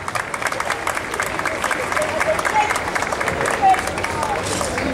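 An audience applauds steadily at a school coexistence fair, a dense patter of many hands clapping in a large room, with faint voices murmuring underneath.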